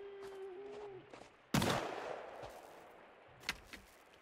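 A single sharp gunshot crack in Sons of the Forest, loud and abrupt with a short decaying tail, followed a couple of seconds later by fainter distant shots over a quiet background.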